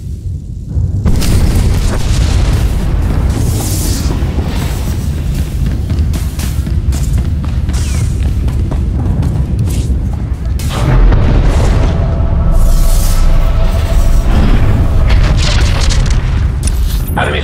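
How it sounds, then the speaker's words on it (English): Enemy fire hits a ship's shields in the Star Wars: The Old Republic video game. Loud, sustained booming explosions rumble continuously and close up, with bursts and crackles layered throughout. "Enemy fire has burned through our shields."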